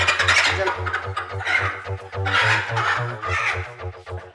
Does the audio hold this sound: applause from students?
no